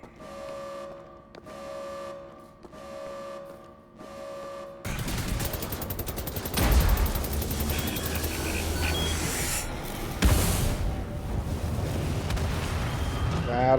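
In Wolfenstein: The New Order, a quiet mechanical hum gives way to loud sustained gunfire aimed at a robot, with a steady rattling barrage and two heavier bursts partway through.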